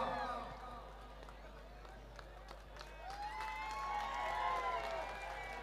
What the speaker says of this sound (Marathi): टाळ्या वाजवून त्यांना प्रोत्साहन द्यायचंय